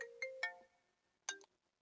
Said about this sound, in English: Oops, that was my phone.